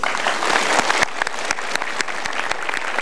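At a motivational seminar, a crowd delivers sustained applause, dense clapping with a few sharper individual claps standing out, loud and even throughout.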